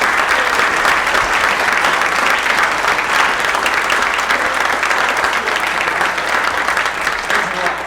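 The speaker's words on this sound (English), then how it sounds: "give me another round of applause for Vince Palamara" A lecture audience at a JFK assassination event applauds loudly and continuously for nearly eight seconds, a thick, even wash of clapping with a murmur of crowd beneath it.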